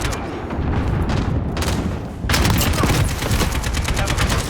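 RPD machine gun in Call of Duty MW blazing in rapid, continuous automatic bursts, loud and close, with a brief lull before the firing resumes even harder, and someone talking underneath.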